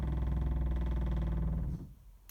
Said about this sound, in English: you can hear the water pump come on and pressurize the system